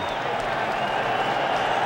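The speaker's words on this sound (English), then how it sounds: "And listen to this crowd here, Pat." Football stadium crowd at an NFC Divisional Playoff game between Philadelphia and the New York Giants, a dense, continuous roar of cheering and applause filling the whole moment with no break.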